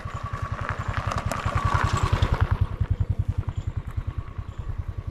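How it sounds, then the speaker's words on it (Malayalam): A motorcycle on a forest path, its single-cylinder engine thumping in a fast, steady pulse that grows louder and nearer, then chugs along close by with no one speaking. "എന്നൊരു ബൈക്ക് ഇങ്ങോട്ട് വരുന്നുണ്ട്."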